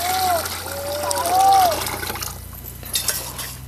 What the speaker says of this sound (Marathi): मग आता इकडे मी गरम पाणी करून घेतलेले आहे ते घालूया